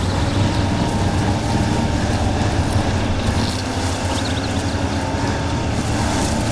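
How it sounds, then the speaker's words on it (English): Truck in Spin Tires reversing while hauling on a winch cable, a steady loud engine drone with low rumble and strained cable noise running continuously throughout. "I'm pulling with the winch at the same time"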